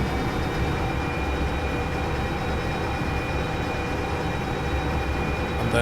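A train runs in the railway simulation game Derail Valley, giving a loud, steady rumbling drone of wheels and engine that continues unbroken and close, with no talk over it.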